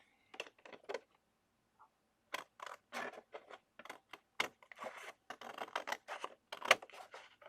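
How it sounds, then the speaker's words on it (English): Scissors trim the edge of a paper calendar page in a quick run of short, crisp snips, quiet and close, with brief pauses between cuts. "And we'll trim the other side now."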